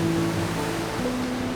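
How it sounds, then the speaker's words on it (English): Ocean surf and heavy swell crashing against coastal rocks at high tide, a loud, steady roar of broadband wash with no talking. "The surf's pumping. It's a lot more swell than I was expecting"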